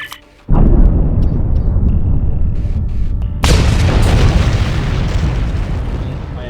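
Explosion in the space game Star Trek Online: a sudden loud boom hits after a brief quiet start, then a second heavy blast around midway, each trailing into a long rumbling roar that fills the rest.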